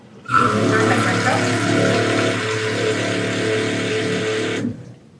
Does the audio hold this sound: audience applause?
no